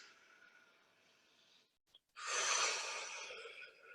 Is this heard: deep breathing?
yes